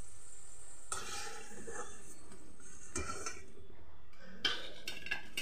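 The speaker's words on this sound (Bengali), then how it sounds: "এবার ওই একই তেলের মধ্যে ফোড়নে প্রথমে দিয়ে দিচ্ছি গোটা জিরে আর তেজপাতা।" Whole cumin seeds and bay leaf dropped into hot oil left over from frying potatoes, giving a steady close sizzle with occasional light clinks of a metal utensil against the pan.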